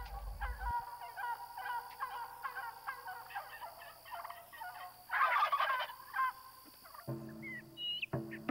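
Wild turkeys in the Rio Grande delta of South Texas gobble in repeated rattling bursts, one loud close call standing out midway, with other bird calls and a low rumble at the end.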